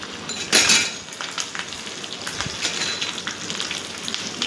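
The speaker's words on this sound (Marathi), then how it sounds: "हे मोहरी टाकलेली आहे आपण आणि हिरव्या मिरच्या टाकलेल्या आहेत" Mustard seeds and green chillies splutter in hot oil for a tempering, with a sharp crackling burst near the start and then a busy, steady sizzle with scattered pops.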